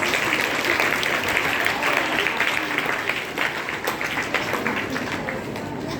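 School event audience giving another round of applause between performances: dense, steady clapping from a large crowd, holding at a constant level for several seconds with a few louder individual claps, and speech audible beneath it.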